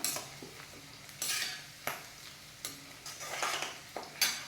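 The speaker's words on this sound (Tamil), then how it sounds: "லைட்டாக உப்பு போட்டு தேங்காய் எண்ணெயில் தான் ஃப்ரை பண்ணணும்" Fish fries in coconut oil seasoned with turmeric, pepper and light salt, a soft steady sizzle broken by repeated scraping stirs and utensil taps against the pan, close and fairly quiet, no voices.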